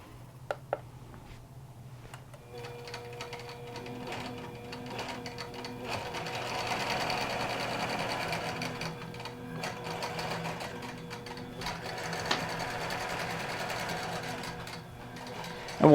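A QBOT V3 quilting robot drives a sewing machine through overlay quilting, a steady fast needle chatter with a low motor hum running throughout, punctuated by a few sharp clicks.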